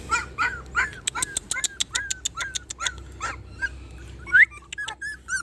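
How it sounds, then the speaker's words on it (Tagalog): Puppies outdoors in a rural garden give a close series of high, thin whimpers and yelps with a few short barks, repeated in quick irregular bursts. "Ingay naman na yung tuta to."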